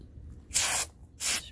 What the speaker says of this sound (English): spray it like so